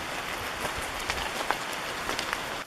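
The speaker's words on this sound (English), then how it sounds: "It's really starting to rain now." Heavy rain comes down on a wooded trail near Sitka, Alaska, a dense steady patter with distinct close drops tapping out now and then, with no talk over it.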